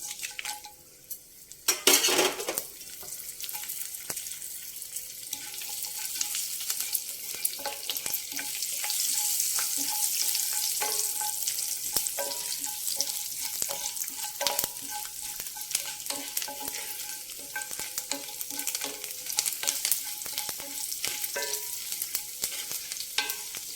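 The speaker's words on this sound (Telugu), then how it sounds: "ఇప్పుడు మనం మినప్పప్పు, జీలకర్ర, వెల్లుల్లిపాయి, ఎండుమిర్చి ఇవి వేసేసుకుందాం." Urad dal, cumin, garlic and dried red chillies frying in hot oil for a Telugu black-eyed pea stir-fry, giving a steady close sizzle with occasional spoon scrapes and clinks against the pan.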